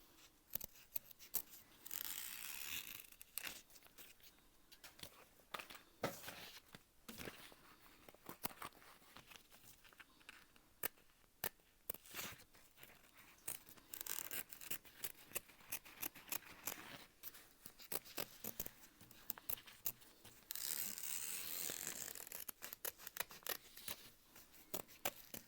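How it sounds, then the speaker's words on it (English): Scissors snip through excess bag lining fabric while sewing a crossbody bag, a long run of close, crisp cuts at a slow, steady pace with short pauses, no talking. "Cutting away our excess lining, nice and slow."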